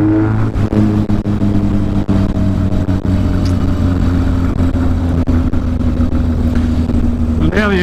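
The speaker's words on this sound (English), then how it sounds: "The motor sounds good." Near and loud, a Yamaha XS1100 cafe racer motorcycle fitted with a big bore kit and performance head idles steadily, with a deep, even engine rumble that continues throughout.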